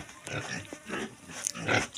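Pigs grunting in a series of short, low, rough grunts, moderately close and fairly soft with a faint background.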